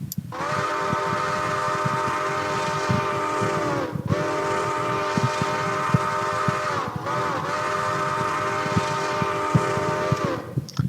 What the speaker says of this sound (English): that is Iowa Interstate's whistle